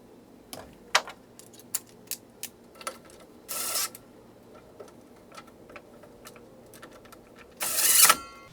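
Small plastic clicks, ticks and taps from tucking a wire and snapping a plastic wire cover back onto a DeWalt DW716 miter saw, close and sparse, with two short harsh scraping bursts.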